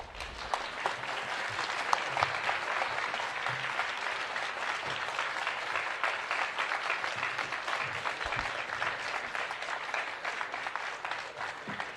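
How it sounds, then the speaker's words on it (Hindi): Sustained, loud applause from a festival audience at a literature festival, dense steady clapping filling the whole stretch without a break. "जोरदार तालियां।"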